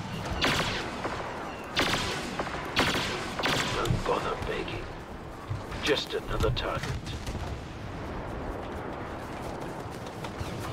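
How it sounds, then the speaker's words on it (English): Star Wars Battlefront gameplay with blasts of gunfire and heavy booming shots in several bursts, loud and close at first, then a rumbling mix of battle noise as players talk over it. "What the fuck is that shooting at us in the back?"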